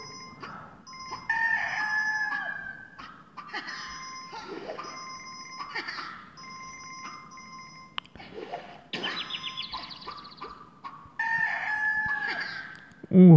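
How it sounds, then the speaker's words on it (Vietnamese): A rooster crows again and again on an afternoon, the loud calls close by and spaced apart, with some bright ringing tones between them. "Tiếng gà gáy như kiểu là báo thức mình vào buổi sáng ấy"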